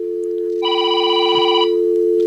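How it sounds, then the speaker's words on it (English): A telephone rings once in a steady burst while a live business talk show tries to connect a caller, a constant low hum running under the ring and no voices. "I'm trying to get Neil on the line."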